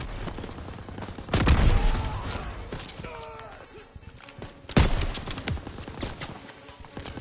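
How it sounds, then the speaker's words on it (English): Machine gun fire in a Call of Duty WWII battle, heavy bursts and booming shots rising over a noisy backdrop, with shouted voices between volleys. "MG in the hayloft! Take cover!"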